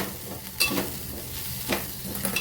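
Grated sweet potato fries in ghee while a spoon scrapes it around the pan, with a few soft stirring strokes over a quiet, continuous sizzle, close and fairly faint.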